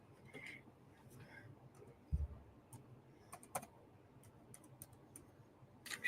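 Quiet keystrokes tap on a computer keyboard in sparse, irregular clicks, faint and close, with a soft thump partway through; no clear speech is heard.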